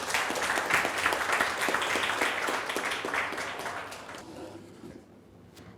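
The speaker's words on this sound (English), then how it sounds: "can we give another round of applause to our panelists?" A summit audience gives panelists a warm round of applause, dense steady clapping that fills the room before tapering off toward the end.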